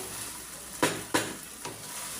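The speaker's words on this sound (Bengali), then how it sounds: "আমি একটু ভালো করে কষাই নেব মশলার সাথে" Chicken and rice sautéing in spiced oil for chicken biryani under a soft steady sizzle, broken by three sharp scrapes of a spoon stirring the pot.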